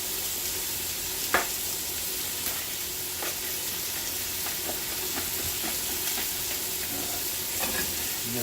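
Oil sizzles and crackles in a hot pan before skirt steak goes in: a steady, fairly quiet frying hiss with a few sharp pops scattered through it, and no voices.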